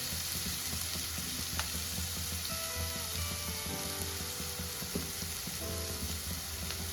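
Onions sautéing in a pan for a Tamil brain bajji dish, a steady, close sizzle with a constant crackling hiss and occasional scraping stirs, no voices over it.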